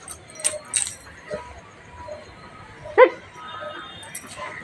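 A dog at a house in the evening barks once sharply and close, with a few faint yips and clinks around it in an otherwise quiet indoor setting.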